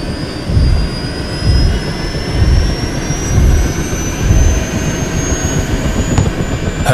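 A jet aircraft engine on a medical airlift to hospital drones loudly and steadily, with a rising high whine and rhythmic low rumbling swells throughout.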